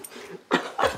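A pet dog gives two short, close whimpers or yips in quick succession, the second slightly longer, with a quiet pause between.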